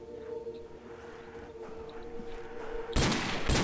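Gunfire in a World at War custom zombies match cuts in near the end as a loud, dense burst over a steady droning game background.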